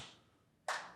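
A single sharp clap bursts in near the end after a quiet stretch, loud and close, as two people clap their hands together in a group clapping exercise.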